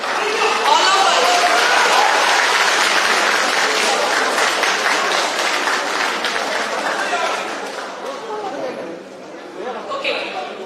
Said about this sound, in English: big round of applause to